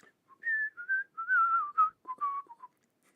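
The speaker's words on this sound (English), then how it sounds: "I did pick up whistling though." A person whistles a short melodic phrase alone, a string of clear, close tones with brief gaps between notes, lasting about two seconds before trailing off into silence.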